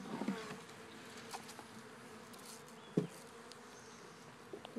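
Honey bees from a package hum and buzz steadily at close range while being installed into a hive, a soft continuous drone with a few brief knocks and taps of handling.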